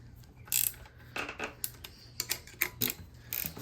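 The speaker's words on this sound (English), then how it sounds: "This is a very handy ratcheting wrench." A ratcheting wrench clicks in quick bursts while loosening the brake on a chrome bike, close and clear, with short metallic ratchet runs and pauses between them.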